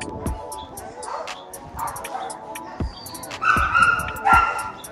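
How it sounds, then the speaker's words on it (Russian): Several dogs bark, yip and whimper in the kennels of a city animal shelter in the USA, with short sharp barks recurring close by throughout and a voice briefly speaking in the background. "Вот тут еще собачки есть"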